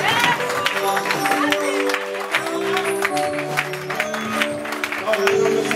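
A church congregation applauding and cheering for Jesus during worship in Leeds, with dense rhythmic clapping and crowd noise mixed under singing or music and a voice, fairly loud throughout.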